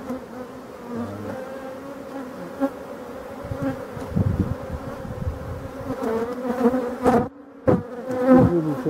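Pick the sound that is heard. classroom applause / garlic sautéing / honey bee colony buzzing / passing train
honey bee colony buzzing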